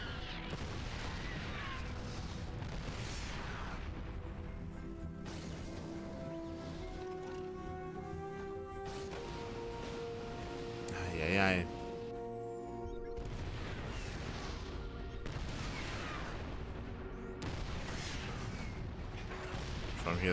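StarCraft II siege tanks firing in a Terran-versus-Terran esports match, heavy booming blasts layered over dense battle noise and music, with one louder explosive burst midway and a caster talking throughout.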